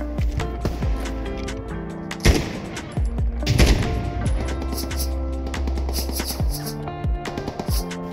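Video game gunfire cracks in rapid, irregular bursts of close, loud shots over a dense, droning soundtrack, with some scattered single shots between volleys.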